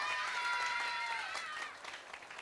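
Audience applause at a 50th anniversary party, a dense wash of clapping from a crowd that stays steady and fairly loud before thinning out toward the end.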